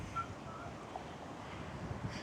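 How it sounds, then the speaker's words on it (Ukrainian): Strong wind buffets the microphone in a steady low roar with occasional louder gusts and no other clear sounds. "дуже сильний вітер"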